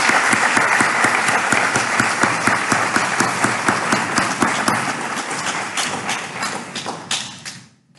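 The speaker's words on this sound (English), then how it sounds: "I hope you would be willing to join me in giving them a round of applause, Jose and all his colleagues" A conference audience at a groundwater congress applauds, dense clapping that holds steady and then thins and fades out toward the end.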